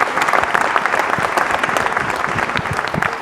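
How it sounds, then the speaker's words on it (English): An audience at a press conference for a film, clapping steadily and densely for a few seconds, a sustained wash of many hands at close range without speech. "Let's give them a round of applause"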